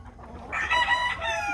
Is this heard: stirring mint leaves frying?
no